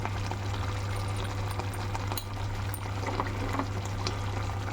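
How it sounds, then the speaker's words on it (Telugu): Water poured into a pot of mutton curry as it cooks, a steady close splashing pour with a low stove hum underneath, no voices. "వాటర్ వేసుకున్నాం."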